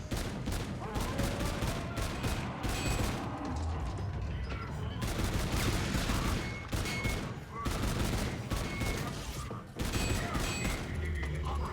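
Rapid bursts of gunfire from Infinite Warfare Zombies in the Zombies in Spaceland mode, loud and dense throughout, with repeated volleys and a few brief gaps between them.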